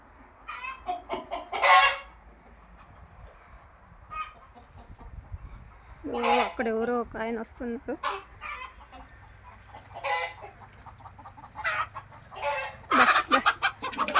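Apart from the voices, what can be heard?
agitated hens clucking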